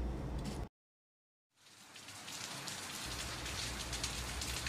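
Steady rain falling on a rainy day, a dense, even hiss that cuts to silence for under a second, then swells back in and continues unbroken.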